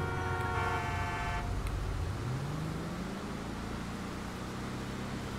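A car horn sounds nearby in a steady, sustained blast over the rumble of a moving car during a turn, then the horn cuts off and the road and engine noise carry on.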